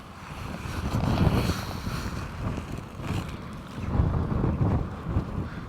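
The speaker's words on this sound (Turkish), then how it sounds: "Bu arada aşırı bir rüzgar var." Strong wind buffets the microphone in a continuous low rumble that swells and fades in gusts, with no voices, outdoors in bear country near a village.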